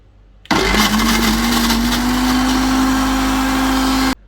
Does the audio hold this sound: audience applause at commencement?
no